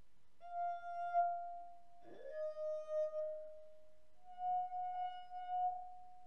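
A wine glass partly filled with water made to sing by rubbing its rim, a pure sustained ringing tone with bright overtones that swells and fades in three long strokes, heard alone in a quiet room.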